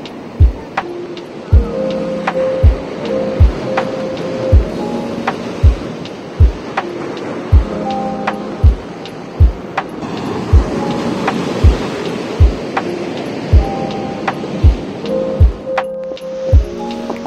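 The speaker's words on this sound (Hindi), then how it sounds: "I just want you to close your eyes and full volume pe you just feel these waves." Ocean waves wash steadily onto Serenity Beach in Pondicherry close by, with small regular clinking knocks and some wind buffeting the microphone.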